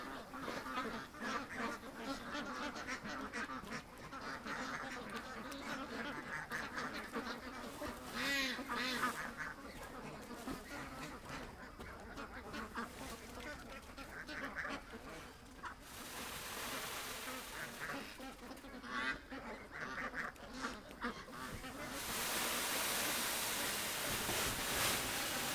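Ducks quack steadily close by in a farmyard, with overlapping calls and some honking at times, while faint activity goes on in the background.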